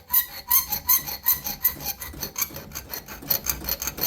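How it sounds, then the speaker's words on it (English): A coarse flat file rasps across a metal saw test blank in quick, even back-and-forth strokes, loud and close with no talking. "And then I come in with my coarse flat file and get rounded up"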